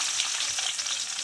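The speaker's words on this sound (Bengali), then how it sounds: "পেঁয়াজগুলো একটু লাল লাল করে ভেজে নিব।" Chopped onions, added after a bay leaf, frying in hot oil in a pan for an egg and potato curry, a short burst of steady close sizzling hiss with no voices.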